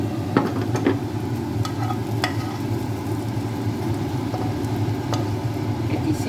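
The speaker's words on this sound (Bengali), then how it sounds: "এই ডিশে আমি এটাকে ঢেলে রাখছি" Fried potato filling for Mughlai paratha is scraped from a pan into a dish, with a few soft knocks and scrapes over a steady low sizzle and kitchen hum, close by and without speech.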